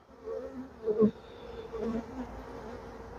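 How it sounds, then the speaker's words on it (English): Honey bees buzz steadily in an open hive, a dense low drone with a few louder swells as insects pass close, continuous throughout with no talking. "All the bees have swung to the outer edges."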